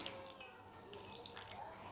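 A spoonful of water goes into an amla murabba mix of gooseberries and sugar in a pot, a faint, brief watery trickle against low background noise.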